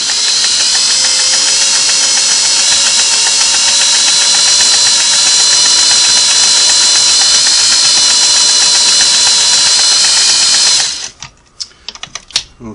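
A Sweetness 401A sewing machine stitches continuously with a loud, close, steady mechanical whir and fast needle chatter, stopping abruptly near the end, followed by a few small handling clicks.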